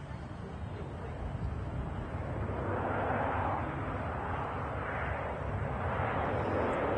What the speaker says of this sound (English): TURKISH A330 just touching it